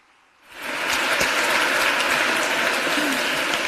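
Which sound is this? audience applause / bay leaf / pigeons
audience applause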